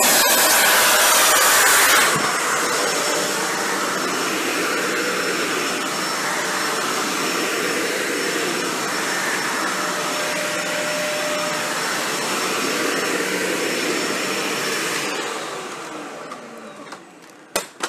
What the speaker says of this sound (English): the end here is a Dyson Ball Animal 3, and frankly, it is one of the tougher machines to move on this low pile carpet